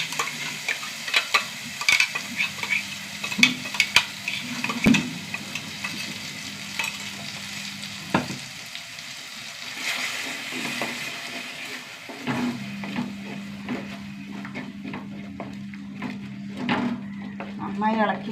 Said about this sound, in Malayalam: നന്നായി ഇളക്കി എണ്ണ തെളിയുന്നവരെ ഇളക്കി കൊടുക്കാം